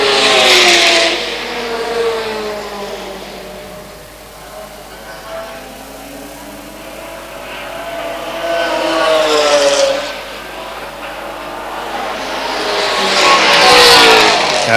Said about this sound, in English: Motor's running, but they're not going anywhere